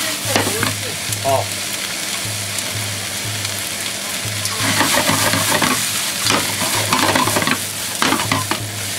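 Cabbage yakisoba frying and being stirred in a pan, a loud close sizzle with repeated scraping and tossing strokes and a steady low hum underneath.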